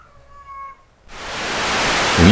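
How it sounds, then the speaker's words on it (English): A cat at a cemetery gives one short, faint, tonal meow, which is then swallowed by a loud, steady rushing hiss that fills the rest of the moment. "He's saying goodbye if you can hear the cat."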